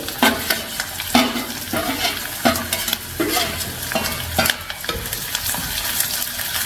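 Garlic, ginger, green chilli and curry leaves fry in hot oil after mustard seeds have popped, for a tuna fish pickle. The sizzle is steady and close, broken by repeated scraping strokes of a stirring spoon.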